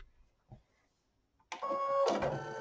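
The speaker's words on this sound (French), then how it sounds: "je vais appuyer là et le fil va s'enfiler dans l'aiguille" A Brother Innovis sewing machine threading its needle automatically: a couple of faint clicks in near silence, then a sudden mechanical whir with a tonal motor hum that swells briefly and continues close by.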